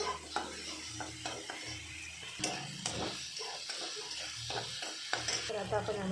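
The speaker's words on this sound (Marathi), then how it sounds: "हलवून घ्यायचं।" Tomato masala sizzling in a frying pan while a spoon stirs it, with repeated scrapes and light clinks against the pan, close and fairly quiet with no voices.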